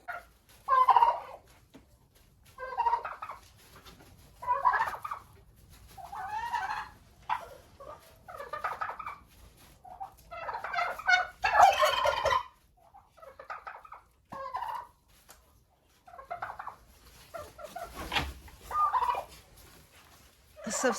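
Turkeys gobble repeatedly in a close, quiet poultry yard, rapid warbling bursts coming every second or two, some overlapping, with no talk.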